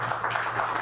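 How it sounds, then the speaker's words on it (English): Clapping from an audience at a gathering honoring a rabbi, a dense, even patter of many hands filling the room at moderate loudness, heard alone without talk. "is that clapping from here for Rabbi?"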